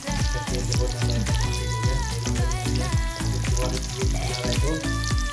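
Pork meat frying in its own rendered fat with no added oil, a busy, crackling sizzle with steady stirring and scraping in the pan, close and loud without speech.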